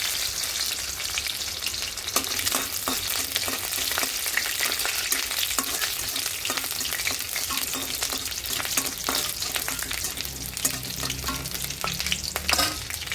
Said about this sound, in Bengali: লাল হওয়া অবধি একটু ভাজবো ভালো করে